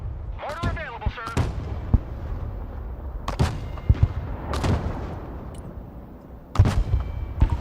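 Mortar rounds firing in the Broken Arrow video game, a series of sharp booming blasts spaced irregularly across the clip, with rumbling tails and a voice speaking between shots.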